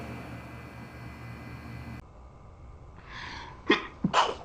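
A single person's sneeze after a stretch of low steady background hiss, with a sharp inhale and burst followed by a second quick sneezy burst near the end.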